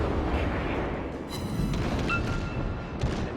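Small-calibre naval guns firing in the World of Warships game, a few muffled booms and crackling bursts over a constant low rumble of the sea battle, no talking.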